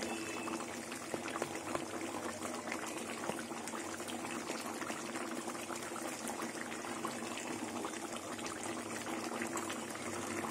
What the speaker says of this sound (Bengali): এবার মাছগুলো কিছুক্ষণ ফুটবে, ফোটার পরে আমি নামিয়ে নেব।